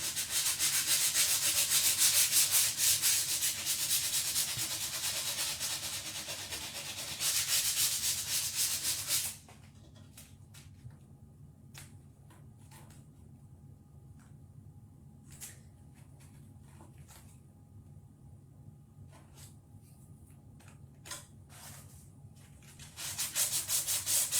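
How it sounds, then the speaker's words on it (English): Sanding by hand with 120-grit sandpaper on a decoupage home decor piece, loud rasping strokes close up for several seconds, then a quieter stretch of scattered rubs and taps before the sanding resumes at the end. "again, this is 120 sandpaper"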